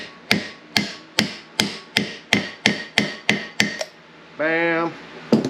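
A hammer drives a wheel bearing seal into the hub of a 2003 Ford Ranger truck: eleven sharp, evenly spaced metallic blows, close and loud, followed by a brief harmonic squeal and one final tap.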